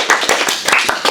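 A brief burst of clapping for a guest speaker at the close of a talk about working at Riot Games, a few quick, close hand claps in a small group.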